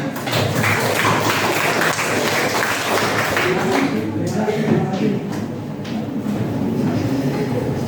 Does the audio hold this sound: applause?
yes